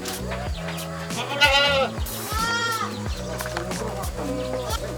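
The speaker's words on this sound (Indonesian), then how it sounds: "Mamasnya lagi ngasih makan kambing." Goats on a small farm bleating repeatedly while being fed, several overlapping wavering cries up close, with feeding noise and faint background voices mixed beneath.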